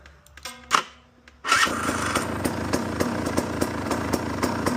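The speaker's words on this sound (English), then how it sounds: "And electric start is working now." A KTM 250 EXC dirt bike's electric starter whirs briefly, then the engine catches and settles into a loud, steady, buzzing idle with small rhythmic pops.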